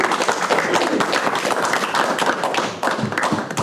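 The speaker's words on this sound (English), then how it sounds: "give him a round of applause" An audience at a ceremony for a brigadier general claps continuously in dense, close applause that stays steady and loud, with no voices over it.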